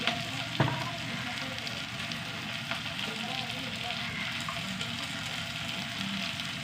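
Chili powder sizzles in a frying pan with cooked lentils, a steady close crackle and hiss of hot oil that runs unbroken throughout, with a few faint clinks of a stirring utensil.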